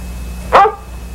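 One short, loud dog bark rings out alone over a steady low hum, from a collie on a movie soundtrack.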